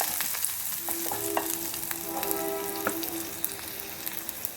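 Tempering spices sizzle and crackle as they are added to a curry in a home kitchen, a steady loud frying hiss with scattered sharp pops and a brief stirring clatter throughout.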